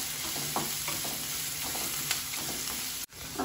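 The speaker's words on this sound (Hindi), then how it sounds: "और प्याज, मैं सब डाल के अच्छे से पका लेंगे" Onions and vegetables for Indian-style macaroni pasta frying in a pan, a constant close sizzle with light stirring scrapes and occasional clicks, cut by a brief dip near the end.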